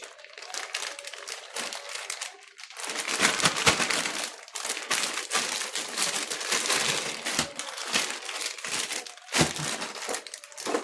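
A plastic bag crinkles and rustles continuously up close, with bursts of louder crackling as it is handled and folded.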